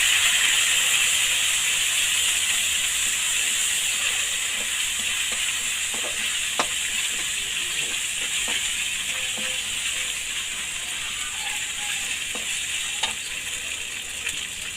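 Ginger-garlic paste and whole spices such as bay leaf, garam masala and cardamom frying in a pan over a village wood-fired stove, giving a steady close sizzle and hiss with occasional light stirring clicks, no talk.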